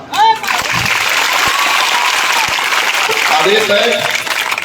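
Crowd clapping at a roadside school protest, a steady wash of hands beating together throughout, with a few voices calling out briefly at the start and again near the end.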